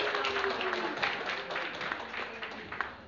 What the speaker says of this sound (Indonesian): 皆さん拍手でお出迎えください